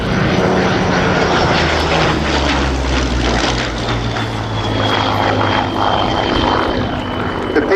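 Battle of Britain Memorial Flight Hurricane and Spitfire, piston-engined WWII fighters, flying overhead at the Royal International Air Tattoo 2016. A steady, loud propeller drone with a deep engine rumble carries through the whole stretch without talk.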